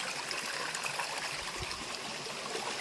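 A small stream in Wayanad burbles and trickles in a steady, soft wash of flowing water, continuous and fairly faint, with no talk over it.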